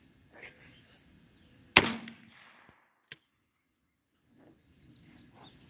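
A 20 gauge shotgun fires a reloaded shell outdoors at a range: one loud, sharp blast with a short decay, then a faint click, with birds chirping in the background.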